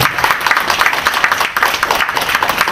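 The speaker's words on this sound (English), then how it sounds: "Round of applause to you." An audience at a library event honoring quilters gives a brief round of applause, dense rapid clapping at moderate volume for a few seconds.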